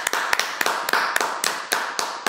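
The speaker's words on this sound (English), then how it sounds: "we'll give them a round of applause" Applause for a school's newly invested head girl and head boy at an investiture ceremony, heard as a run of sharp, separated hand claps at a steady rhythm, fairly close and alone without talk.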